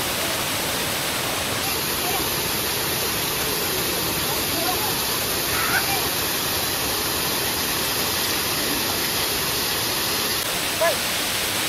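Ditumabo Mother Falls in San Luis, Aurora, a large Philippine waterfall, gives a loud, steady broadband roar of rushing, crashing water that stays constant from start to finish, close up and with no talk over it.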